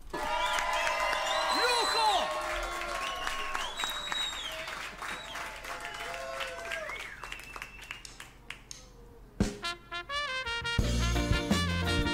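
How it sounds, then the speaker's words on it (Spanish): An audience bursts into loud applause and cheering, with whoops and claps rolling for several seconds before tapering off as a voice speaks and music begins. "¡Un aplauso!"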